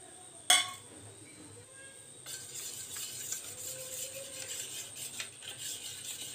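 Salt and turmeric are stirred into upma batter in a pot, with a sharp clink of a spoon at first and then soft, irregular scraping and rubbing sounds, fairly quiet.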